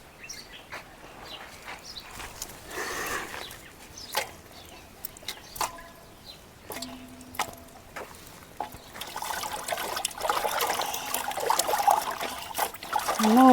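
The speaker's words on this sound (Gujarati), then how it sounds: "મોભાઈ ગુંદા ધોય છે।" Gunda fruits being washed in water in a village setting, with splashing and trickling that grows busier toward the end, while birds chirp faintly in the background.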